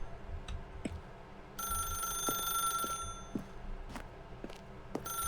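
A phone in The Stanley Parable: Ultra Deluxe rings in one sustained electronic burst about one and a half seconds long, set among soft clicks and footstep-like taps in a quiet game room with no voices.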